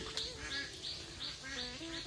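Repeated nasal quacks of a duck come in a steady, evenly spaced series, fairly close and moderately loud, with no talking.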